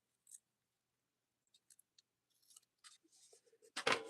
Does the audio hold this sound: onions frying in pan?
no